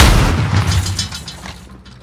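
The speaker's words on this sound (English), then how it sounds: "Stun grenade out." A video-game stun grenade detonates in a single loud, close boom that rolls off and fades over about two seconds.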